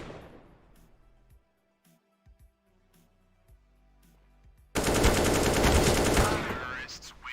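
Rapid gunfire in the video game CS:GO, with a few sparse clicks and shots followed by a loud, sustained burst of fast automatic fire near the end.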